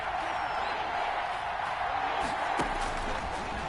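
A stadium crowd in the Madden NFL 21 video game, a dense steady roar of cheering fans ahead of a big third down, loud and continuous with a brief thud partway through.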